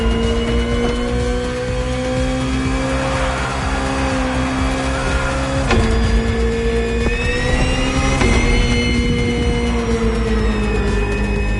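BMW M Hybrid V8, a 2023 endurance prototype race car, in The Crew Motorfest on PS5, roars loud and close with a steady high engine drone, shifting pitch at a couple of gear changes, no talking.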